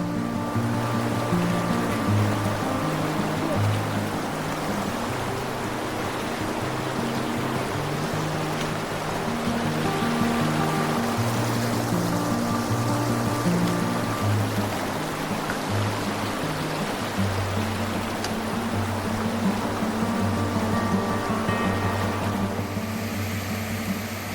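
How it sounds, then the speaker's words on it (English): Bubb's Creek, a mountain stream in Kings Canyon, rushes steadily and loud with a constant broadband roar, with no voices. "Gotta cross Bubb's Creek."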